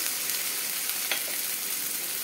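Ground masala paste with tomato, onion and green chilli frying in a pan for a potato and egg curry, a dense, even sizzle with one brief stirring scrape, close and without talk.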